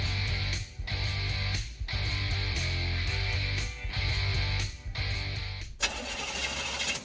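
A car engine cranks repeatedly in rhythmic bursts with short pauses, straining without catching, then a final rough sputtering burst.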